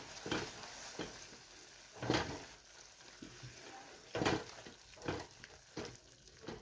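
A spoon stirs a ground onion masala paste into softened spinach in a pan, making rhythmic scraping and squelching sweeps that repeat about every second, with a faint sizzle underneath and no talking.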